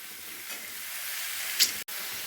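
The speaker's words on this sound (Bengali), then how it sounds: "শুক্তোতে বেশি সবজি ভাজা যাবে না খেতে ভালো লাগবে না হালকা করে ভেজে নেব" Vegetables for a milk shukto frying lightly in a pan over a medium flame, a soft steady sizzle with a brief brighter crackle, close and quiet.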